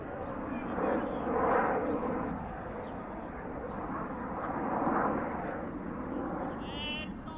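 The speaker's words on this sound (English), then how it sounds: "We are on the flight path for Heathrow Airport, so occasionally you will hear the passing aeroplane." An aeroplane on the Heathrow Airport flight path passes over a suburban cricket ground, its distant, broad engine roar swelling and easing in slow waves throughout.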